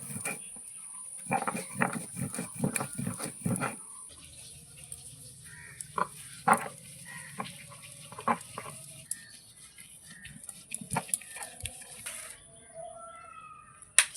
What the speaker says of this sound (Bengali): কিছুটা কাঁঠালের বীজ আমি বেটে নিলাম